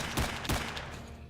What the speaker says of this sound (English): Oh, I hear some guns shooting.